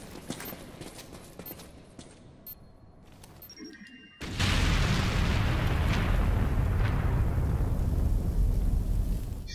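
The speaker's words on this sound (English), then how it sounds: "Explosion." A big explosion in the video game Metroid Other M bursts in suddenly, becoming a loud, sustained roaring rumble that fills the remaining seconds after quieter game ambience.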